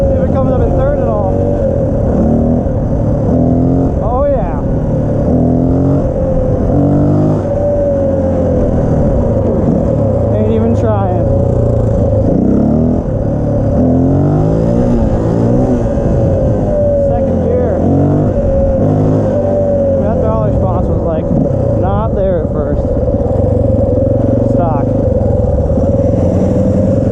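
Honda XR400R motorcycle running a lean tune, its engine loud and close as it accelerates hard through the gears with rising, falling revs, a rider's voice talking intermittently over it.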